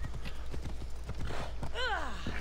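A horse's hooves clip-clop at a steady trot in Assassin's Creed Odyssey, with a brief whinny near the end, all under a constant game background.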